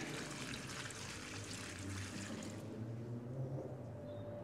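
Petrol glugging steadily from a 2 gallon can into a brand new fuel tank on an old Austin/Morris van, a continuous close liquid pour that settles to a quieter trickle.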